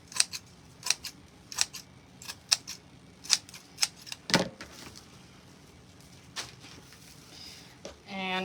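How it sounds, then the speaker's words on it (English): Scissors snip through wreath mesh in a steady series of sharp, close cuts, about a dozen crisp clicks, followed by quieter handling noises. "I'm going to take my scissors. I'm going to cut my mesh all the way through."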